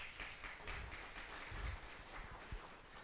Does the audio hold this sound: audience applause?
yes